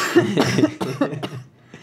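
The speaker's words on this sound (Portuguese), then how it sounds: "eu vou ter que tossir" Several close, harsh coughs in quick succession from a hoarse woman, fading off into a brief quiet moment.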